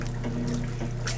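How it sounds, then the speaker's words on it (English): Water draining from an antique Maytag model 30WP wringer washer, with the flume directing it back into the tub: a steady, close trickling splash with a constant low motor hum beneath. "the water flume directs the water back into the tub"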